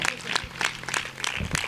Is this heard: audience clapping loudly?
yes